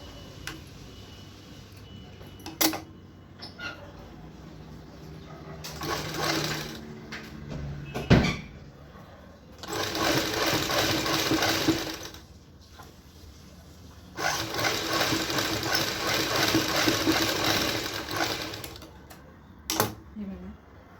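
Domestic sewing machine stitching the shoulder seam of a blouse in bursts of rapid mechanical clatter, each run lasting a few seconds with quiet gaps and small knocks and fabric handling between them.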